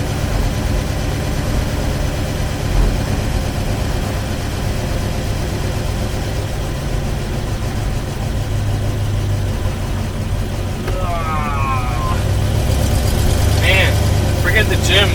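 The engine of a 1958 Studebaker Commander, treated with Marvel Mystery Oil, runs as the car is driven. It gives a steady low rumble close by with a brief rise toward the end, and people talk over it.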